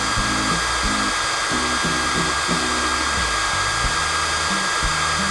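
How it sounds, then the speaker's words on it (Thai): Loud and close, a Bosch GSB 180-Li cordless drill on speed one runs in a continuous, even whine while boring into PVC with light pressure, never pausing. "เจาะ PVC ดูก่อนนะฮะเจาะเพื่อที่จะเป็นรู"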